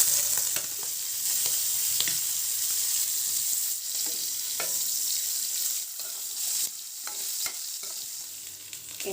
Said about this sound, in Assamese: এয়া মাছ 3 পিস মই ভাজি ললো